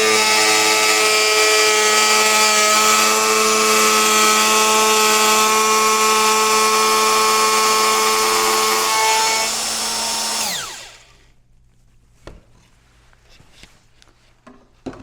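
A power router with a straight guide cuts a straight 5 mm deep groove in wood, a loud high whine with steady tones that winds down and stops near ten seconds, followed by quiet handling clicks.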